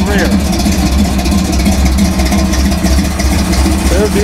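The SC/Rambler car's engine idles close by, loud and throbbing in a steady low rumble throughout.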